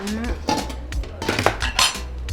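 A bowl of rice is set down on a table in an old cheonggukjang restaurant in Myeongdong, Seoul, with several sharp clinks and clatters of dishes and cutlery, close and clear with no talk.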